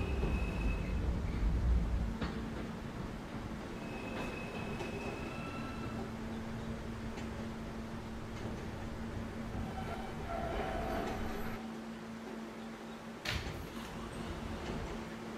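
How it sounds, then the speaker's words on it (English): An R160A E subway train on the Fifth Avenue line rides along steadily, with a continuous close rumble, a low motor hum and faint squeals and clicks from the wheels and car. "This is a Union Turnpike bound E train."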